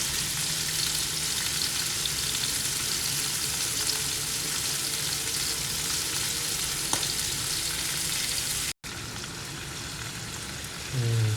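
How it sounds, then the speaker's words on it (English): Fish shallow frying in a pan sizzles in a steady, dense hiss throughout, close and loud, with one brief cut near the end and no talking. "So I'm frying the fish now."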